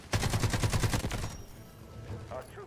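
AKM 7.62 rifle fire in the Delta Force Hawk Ops video game, a fast burst of roughly ten rounds lasting about a second, loud and close, then fading into quieter game ambience.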